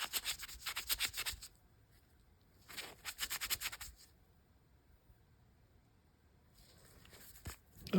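An old MM8 pocket knife being polished: three bursts of brisk, rhythmic rubbing and scratching, close and fairly quiet, with near silence between them and no talk.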